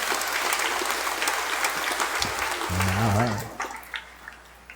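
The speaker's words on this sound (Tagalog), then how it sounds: "Pumalakpak ng malakas." A church congregation at a dawn Simbang Gabi Mass in Quiapo claps loudly for a few seconds, a dense burst that tapers off into scattered claps, with voices and a sung note over it.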